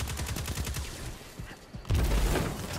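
Gunfire in the Destiny 2 beta: a quick rhythmic string of shots at first, then a heavier, louder burst of firing toward the end, up close with no talking over it.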